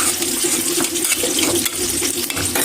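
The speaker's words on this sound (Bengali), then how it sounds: "মাছগুলো লাল লাল করে ভাজবো।" Poa fish frying in oil in a pan, a continuous bright hissing sizzle with small pops and crackles, close and steady throughout.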